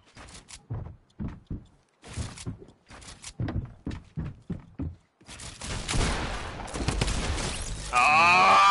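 Sharp gunshots in a video game ring out in a quick series of separate reports, followed by a denser, noisier stretch of action and effects near the end.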